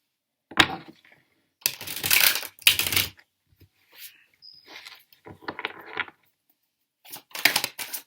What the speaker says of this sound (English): we're going to shuffle these cards